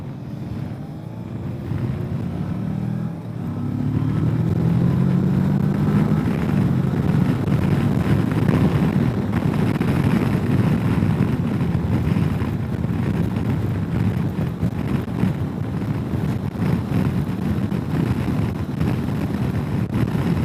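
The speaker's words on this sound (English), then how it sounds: "I get a decent amount of wind noise in my helmet" Steady roaring wind buffeting a helmet while riding a 2021 Kawasaki Versys 650 motorcycle, a loud, continuous broadband rush with a low rumble that holds unbroken from start to finish.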